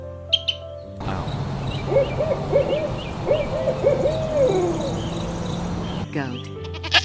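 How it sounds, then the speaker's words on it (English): An owl hoots in a series of soft, wavering calls over a steady background bed, with brief other sounds at the start and end. "Owl."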